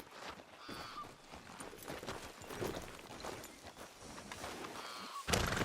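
Horse hooves clip-clop at a walk in the Red Dead Redemption 2 video game, a steady soft rhythm under outdoor ambience with faint chirps, ending in a sudden loud burst.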